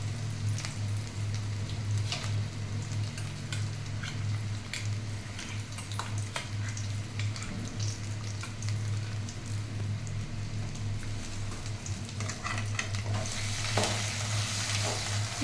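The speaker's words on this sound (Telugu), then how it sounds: "ఆ గోంగూర ఇక్కడ ఆయిల్లో వేసుకోవాలి. ఆయిల్లో వేసి ఇది బాగా కుక్ అవటానికి వదిలేయాలి" Ground gongura leaves cook in oil over a low flame for gongura pickle, a continuous soft frying sizzle with fine crackles and occasional scraping, under a low steady hum, no talking.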